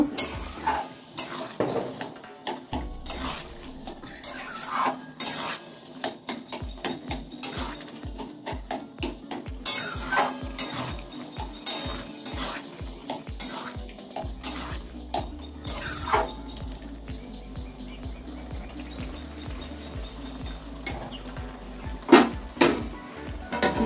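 Boiled taro leaves stir-fry dry in oil without water, with repeated rhythmic scraping and knocking of a utensil against the pan over a low sizzle for a long stretch.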